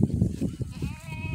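A goat kept at a rural home bleats near the end of the moment, a thin, wavering cry rising over low rustling and wind-like background noise.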